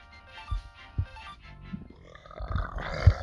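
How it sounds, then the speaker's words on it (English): A deep, drawn-out burp rumbles close to the microphone after a few low, throaty grunting sounds. "It's beer I'm drinking, in case you can't tell from that burp."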